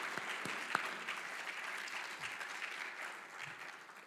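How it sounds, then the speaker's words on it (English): Audience applause for award winners at a College of Medicine awards day, a steady wash of many hands clapping with a few sharper claps standing out, continuing evenly throughout. "Can I get one last round of applause for all of our award winners?"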